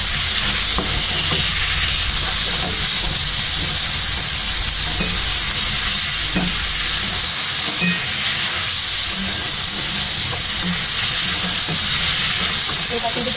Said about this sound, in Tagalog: So yung minced pork lagay na natin bago ang lahat.